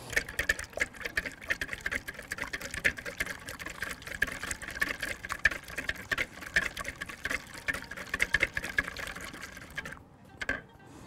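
Two eggs beaten together in a bowl before yogurt is added for a savory surimi bake, giving a dense, steady run of quick sloshing whisk strokes with liquid clicks close by, then a brief stop near the end.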